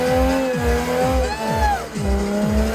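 A BMW E34 revs hard at an auto season opening event in Bishkek, its engine pitch climbing and dropping in about five quick, rhythmic bursts with tire squeal, loud and close.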